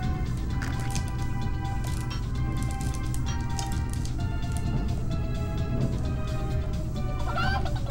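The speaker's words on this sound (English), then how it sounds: "You can hear the chicken?" A chicken clucking in the video game Glover, a few squawky calls sitting over steady, loud game music and background sound.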